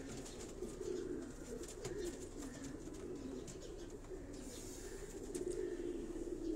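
A female pigeon in a rooftop cage in Karachi coos faintly and steadily over a low background hum, with soft bird calls scattered through.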